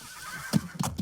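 A horse whinnies with a short, loud neigh. Quick hoof clip-clops follow it during a horse-riding warm-up outdoors. There is no talk.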